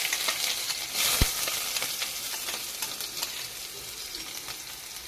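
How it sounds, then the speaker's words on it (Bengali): Whole cumin seeds frying in a shallow layer of oil as a tempering, a soft continuous sizzle with light crackles and one sharp clink near the start, no talking. "জিরেটা হালকা ভাজা হবে তেলে"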